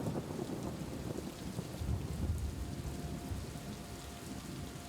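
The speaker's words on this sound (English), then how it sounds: "I forgot to give the warning for the thunder, but it seems alright. It's the loudest sound of the game" In the video game Superliminal, a rumble of thunder rolls low and heavy under steady rain pattering on surfaces, swelling briefly around the middle with no voices present.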